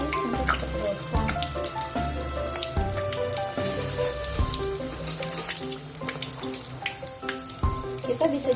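Wonton-skin batagor frying in a pan over moderate heat, giving a steady close sizzle with occasional clinks and scrapes, while tonal sounds run underneath throughout.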